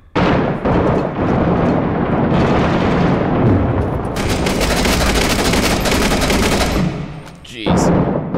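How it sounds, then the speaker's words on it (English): Chaotic close-range combat in Six Days in Fallujah: rapid rifle fire and heavy bursts, then a loud frag grenade blast with crackling debris, dense and loud throughout, with shouted voices mixed in. "Frag's going up."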